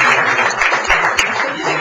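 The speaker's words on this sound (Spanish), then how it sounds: "Aplausos para el que se va." Audience applause closing an economic history conference session in northern Mexico, a steady wash of clapping with voices mixed in, fairly loud and continuous through the short stretch.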